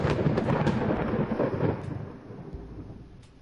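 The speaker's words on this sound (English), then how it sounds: "Why did it have to thunderstorm all of a sudden?" Thunder from a storm in the video game Dream Daddy rolls in loud and close, a broad rumbling roar with rain hiss beneath it that gradually fades over a few seconds.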